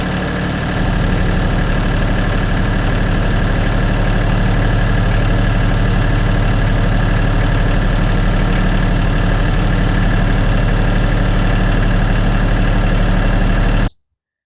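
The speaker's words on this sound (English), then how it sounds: "We used the tractor to drive the T-post." A tractor engine runs loud and close at a steady, continuous drone while driving T-posts for a hog panel fence, then cuts off abruptly near the end.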